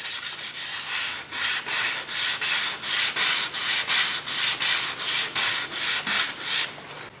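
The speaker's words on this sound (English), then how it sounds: "if you're not careful how you go with the sandpaper" Sandpaper works over a Camaro bumper fascia in close, rhythmic rubbing strokes, about two or three per second, each a loud gritty swish, with no talk.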